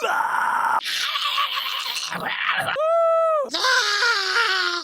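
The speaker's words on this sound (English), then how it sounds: "finding a good scream sound effect was harder than I thought it would be" Loud, harsh horror game scream effects and strained vocal cries follow one another in quick bursts, ending on a long shrill wail.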